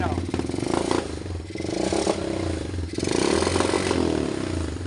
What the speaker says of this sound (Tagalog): Pero hindi normal mga ka-idol yung andar niya. Palagpag po siya umandar. Hindi po normal yan o.